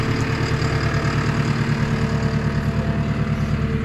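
An old John Deere 8520 tractor engine with 8225 hours idles in a steady, close, low rumble with an even pulsing chug, with no voices over it.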